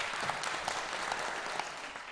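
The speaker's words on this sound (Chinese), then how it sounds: "连连鼓掌" Applause following a Chinese folk instrument performance by cross-strait students, a dense, even patter of many hands clapping at moderate level with a few sharper claps standing out.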